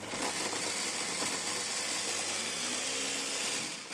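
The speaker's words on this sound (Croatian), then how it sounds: "Stavila sam i crni i bijeli luk zajedno i koristit ću sjecko jer mi je tako lakše" An electric food chopper whirs steadily as it minces red onion and garlic together, a loud, continuous motor drone with a gritty chopping texture that runs unbroken for a few seconds with no voices.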